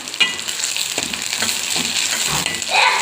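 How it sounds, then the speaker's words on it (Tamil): Sliced onions and long-cut green chillies sauté in hot oil in a pan for sambar, with a steady close sizzle and a spatula scraping and stirring, no talking. "நல்லா வதக்கிக்கோங்க வெங்காயத்தோடு சேர்த்து"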